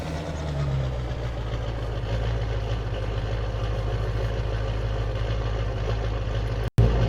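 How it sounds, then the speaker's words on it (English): A vehicle engine idles at a tree clearing site, a steady low rumble that holds at an even level for several seconds, with a brief sharp dropout near the end and no voices. "Well, maybe shut the engine off."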